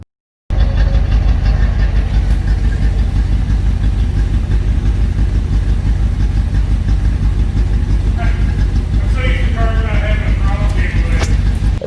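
A 1962 Ford Fairlane 500 V8, a barn-find car running without a throttle cable, idles with a steady low rumble close by for the whole stretch, with some faint higher chirps or squeaks late on.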